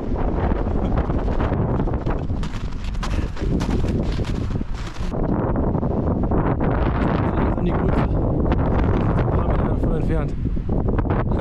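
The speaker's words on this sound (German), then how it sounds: "hier pfeift der Wind schon gut" Strong gusty wind buffets the microphone on a hilltop summit at night during a storm with snow, loud and roaring throughout with brief lulls, and a voice is faintly audible underneath.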